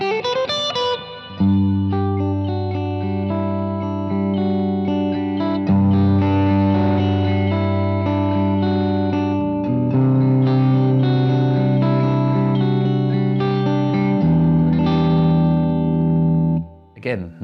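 Gibson Flying V electric guitar played with the selector in the in-between pickup position, a clean, sparkly sequence of sustained chords and ringing notes with light effects, loud and close, without speech.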